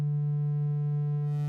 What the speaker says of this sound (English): We're starting with a sine wave, then we can morph into a triangle